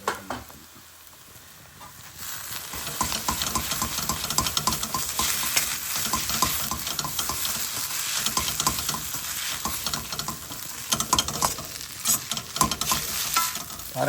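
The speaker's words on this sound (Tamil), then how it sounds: "சாட்டே பண்ணலாம்." Prawn 65 noodles seasoned with pepper and salt sizzle and are stirred steadily in a hot pan, a continuous close frying hiss with scraping and tossing that starts softer and grows louder after the first two seconds.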